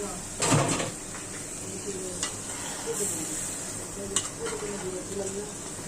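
Meat is dropped into a pan of frying spice masala and sizzles in a brief loud burst, followed by a steady hiss with occasional stirring clinks while a voice talks over it.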